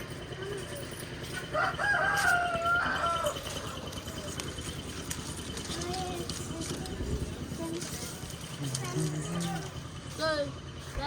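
Chickens cluck and a rooster crows amid general farmyard noise, with people talking intermittently in the background.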